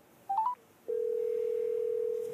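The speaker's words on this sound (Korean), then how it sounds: "승규의 지인한테 전화를 걸어보는데요" A phone dials out in a Korean drama scene: a couple of quick keypad beeps, then a short gap, then a long steady ringback tone held clearly and alone.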